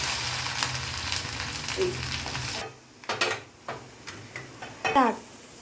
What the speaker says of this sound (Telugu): కాగిన నూనెలో ఈ ముక్కలు వేయండి.